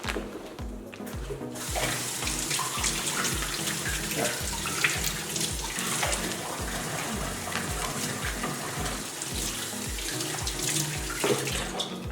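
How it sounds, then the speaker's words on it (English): Tap water runs steadily into a kitchen sink while dishes are washed, a continuous close gush lasting throughout, with soft background music and no talk. "I'm going to have to wash these in the sink"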